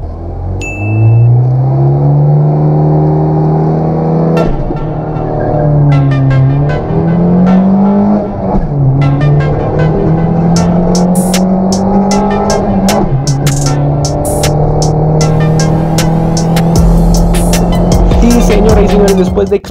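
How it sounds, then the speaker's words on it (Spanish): A Nissan Sentra B13 with a lightened flywheel and bronze clutch revs hard on a drag race pass, its loud engine note climbing and dropping through gear changes, with tire and crowd noise around it. "Después de exprimir el motor al máximo de mi Nissan Sentra V13 con volante alivianado y clutch en bronce en la primera pasada"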